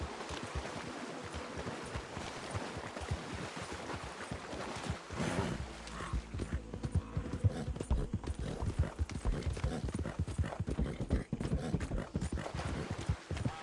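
Horse hooves in a video game, a steady, quick clip-clop rhythm of a galloping mount that grows louder and denser in the second half.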